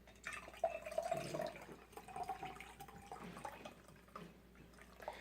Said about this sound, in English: So I'm going to pour the rest of this in here.